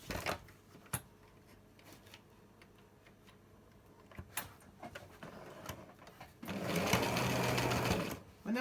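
A sewing machine stitches fabric while panels of an Iro and Buba garment are joined, a quiet steady mechanical ticking that swells into a loud, dense burst of rapid stitching near the end, with a few sharp clicks along the way.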